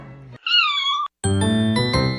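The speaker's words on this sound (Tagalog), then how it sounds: "Sa Camarines Norte naman, may chill na mga kuting." Kittens meowing close by in Camarines Norte, several distinct high, drawn-out mews one after another with a brief pause between them.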